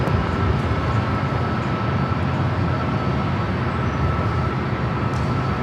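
Airbus A330-300 jet at Los Angeles LAX airport, a steady, loud broadband roar of engines that holds evenly throughout with no voices.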